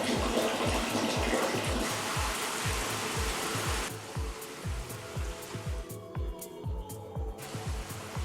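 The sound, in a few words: water running from newly installed kitchen faucet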